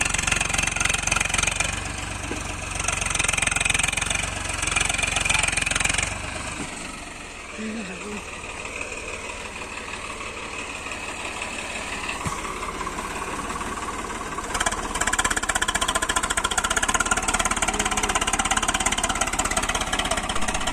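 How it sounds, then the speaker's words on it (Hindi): A tractor engine runs under heavy load while pulling from the front to haul a cow out of a river, giving a loud, steady, rough rumble that lasts the whole time and swells slightly in places. "तो भाई हमने ट्रैक्टर को नीचे उतार कर अब ट्रैक्टर से आगे से जोर लगवाएंगे हम इसे।"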